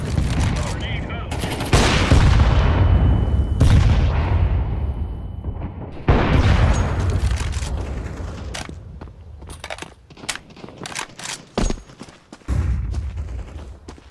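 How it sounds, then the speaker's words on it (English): Grenades explode in a tactical shooter video game, two heavy booming blasts a few seconds apart with long rumbling decay, then scattered gunshots and smaller impacts. "Grenade out."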